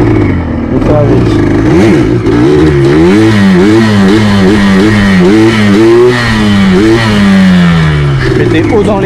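A quad bike engine revving high, loud and close, its pitch sweeping up and down repeatedly while the throttle is worked; someone talks over it in French throughout.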